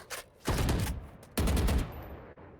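Valorant gunfire during a collegiate tournament grand final, two loud sustained bursts of rapid shots separated by a short pause, close and dominant with almost no talk over them.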